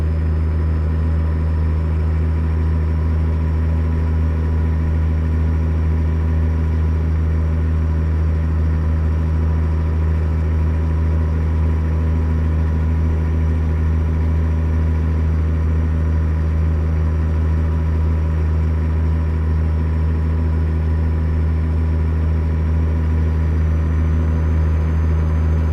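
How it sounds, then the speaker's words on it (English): A heavy truck engine strains in the American Truck Simulator game, producing a steady, loud, unchanging low drone that holds a constant pitch throughout without any speech. "It sounds like my truck's really struggling because it's not moving any faster than what it was before."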